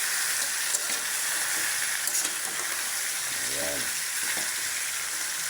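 Marinated pork frying in a pan gives off a steady, bright sizzle and hiss that runs throughout, with a brief spoken word partway in.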